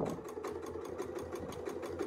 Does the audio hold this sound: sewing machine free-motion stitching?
yes